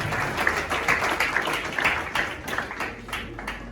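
A church congregation claps together in steady, dense applause that carries evenly through the room without letting up.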